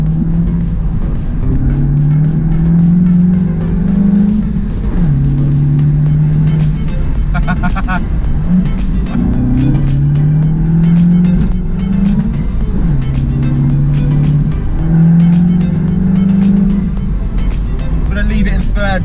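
A 2019 Mini Cooper S convertible accelerates hard out of a corner at about 70 mph, its engine note climbing in repeated rising sweeps between gear changes, loud and close, with someone talking over it throughout.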